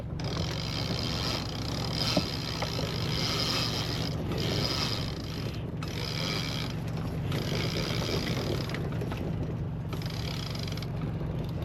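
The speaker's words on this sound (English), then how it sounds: "I'll pull up the jib." The jib sail on a 32ft sailboat is hoisted with a run of mechanical ratcheting and line-hauling rattles in uneven bursts over a constant low engine hum and wind.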